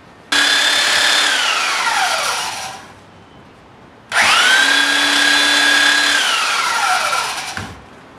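A belt sander grinds down wooden plugs on a toy box in two long passes, each starting sharply with a loud whine that drops in pitch under load, separated by a brief quiet gap, close up.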